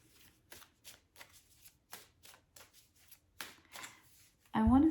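Oracle cards are shuffled by hand in a quick series of crisp, papery riffles, close and evenly paced, ending with a short burst of voice.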